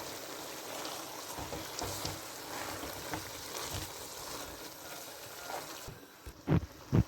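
A chicken and vegetable filling sizzles softly in a pan while a handful of frozen coriander is stirred in, giving a faint crackle broken by a few sharp knocks of the spoon near the end.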